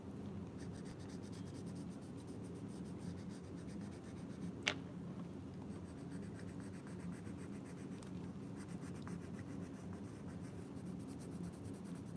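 Colored pencils scratch steadily across the paper of a coloring book, a soft, continuous rubbing hiss with one brief sharper tick, fairly quiet and heard alone without talk.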